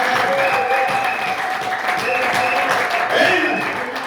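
A church congregation applauds and cheers for the glory of Jesus: steady, dense clapping from many people that fills the room and holds for the whole stretch.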